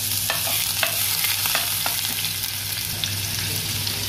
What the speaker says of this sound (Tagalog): Ipa-golden brown lang natin ang ating bawang mga ka-friends para mabango